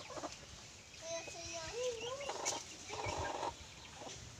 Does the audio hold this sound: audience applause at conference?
no